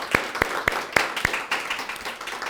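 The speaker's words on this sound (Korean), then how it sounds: "우리 준비팀 모든 분들 박수 한번 보내주시기 바랍니다" Hands clapping in a Korean Methodist church Tuesday prayer meeting, thanking the preparation team; a handful of sharp, evenly spaced claps stand out over a soft, diffuse patter of scattered applause that fades quickly.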